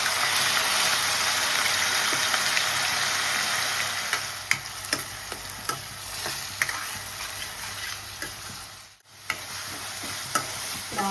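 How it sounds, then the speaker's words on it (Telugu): Onion paste frying in a pan of oil with mustard seeds and cumin, a steady broadband sizzle throughout with occasional stirring clicks and scrapes, close and fairly loud, with no talking. "ఆనియన్స్ పచ్చివాసన పోయేలాగా ఫ్రై చేసుకోవాలి"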